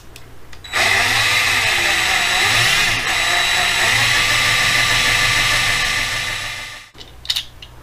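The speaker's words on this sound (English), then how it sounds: "Then we're just gonna drill this out." A power drill whines steadily for about six seconds at close range, drilling out a part on a Honda Prelude, its pitch wavering slightly under load before it spins down and stops.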